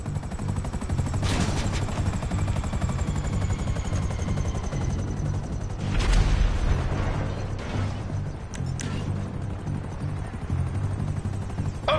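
A helicopter arrives in GTA Online's Cayo Perico Heist: a steady low rotor thrum carries on throughout at constant loudness, with a few brief sharp bursts like gunfire or impacts cutting in around the middle.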